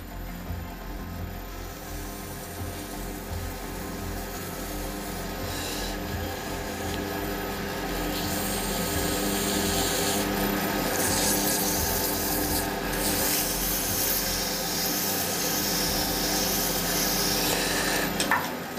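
Hand sanding a wood and epoxy resin shaving brush handle with 600 grit paper, a continuous close rasping rub that swells slightly and keeps a steady back-and-forth texture, with no voices.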